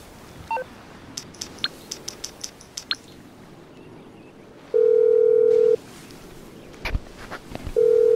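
A phone in a video game dials Morse Mutual: a quick series of short beeping key tones, then a long steady ring tone that stops, pauses, and starts again, with faint footsteps around it.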